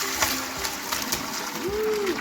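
Hot turkey brine poured steadily into a bucket, a continuous watery splash and slosh close by, with a light voice murmuring underneath.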